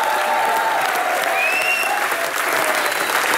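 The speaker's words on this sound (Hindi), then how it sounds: "इसके लिए तो जोरदार तालियां।" Loud, steady studio audience applause fills the whole stretch without a break, dense clapping on a Hindi TV comedy show set during a celebrity cricket guest segment, with no voices on top.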